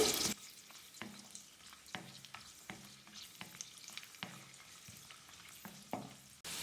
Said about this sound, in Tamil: முந்திரி லைட்டாக பொன்னிறமாக வறுப்பட்டதுக்கு அப்புறமா உலர் திராட்சை கொஞ்சம் சேர்த்துக்கிறேன்